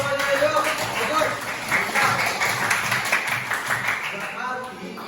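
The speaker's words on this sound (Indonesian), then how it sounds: "Tepuk tangan semuanya, yuk." Students in a classroom applaud together, a dense burst of clapping that stays steady for several seconds and is mixed with children's voices and a teacher talking over it.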